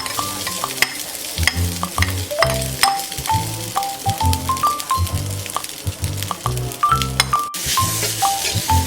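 Seasoned rice with plain butter and a little oil being stir-fried in a frying pan, with a steady sizzle and repeated spatula scrapes and clinks against the pan. The tones sound close and continuous, with tonal melodic notes playing over them.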